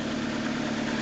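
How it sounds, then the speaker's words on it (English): A stock Nissan race car's engine runs at a steady idle, a low, even mechanical hum that is fairly quiet and unbroken over one short second, with no talking. "Well, the engine is running, which is good."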